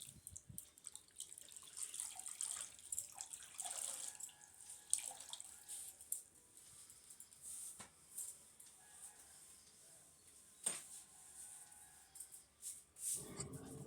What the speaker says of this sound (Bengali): চলো মুছে নিচ্ছি